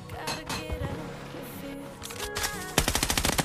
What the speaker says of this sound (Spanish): Tenemos uno disparando por acá enfrente